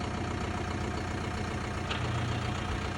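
A T-25 tractor engine runs steadily during pumpkin windrowing on a farm, a constant low diesel drone with a mechanical hum and no breaks, heard alone at moderate distance.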